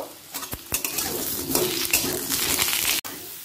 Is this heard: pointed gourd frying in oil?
yes